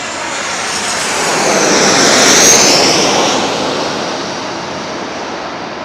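A CRJ airliner landing at LAX passes low overhead, its roaring engine noise swelling to a loud peak mid-clip and then fading away as it moves off toward the runway.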